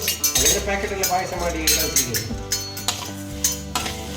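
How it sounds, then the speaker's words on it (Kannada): Vermicelli roasting in ghee in a pan, with a metal spoon clinking and scraping against the pan in an irregular stirring rhythm, close and fairly loud over a soft sizzle. "ಶಾವಿಗೆ ಹುರಿಬೇಕಂತೆ ಮೊದಲಿಗೆ ಸ್ವಲ್ಪ ತುಪ್ಪ ಹಾಕಿ"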